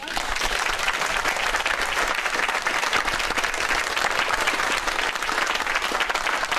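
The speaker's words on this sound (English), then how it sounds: "Why are they applauding?" Sustained applause from a political leaders' debate audience, a dense steady wash of many hands clapping at even loudness throughout, heard at a moderate distance.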